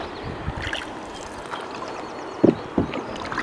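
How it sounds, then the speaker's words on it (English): Canoe paddled across the Kennebec River in Maine, with soft wind-washed water ambience and a couple of distinct paddle strokes splashing and knocking near the end, heard alone without talk. "Paddling across the Kennebec."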